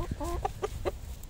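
Chickens cluck close by, a quick series of four or five short, rhythmic clucks over a low background rumble.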